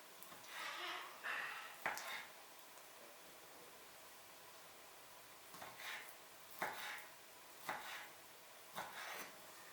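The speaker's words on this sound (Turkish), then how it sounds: "Ve incirlerimi minik küpler halinde doğruyorum" A knife chopping soaked figs into small cubes on a board, with sparse, irregular cuts, a few quick taps clustered and then spaced apart, heard close but fairly quiet.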